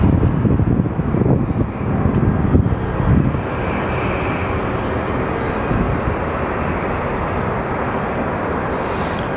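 An American Boeing 767 airliner gives a steady jet engine rumble, louder at first and then settling into a constant distant roar with some wind.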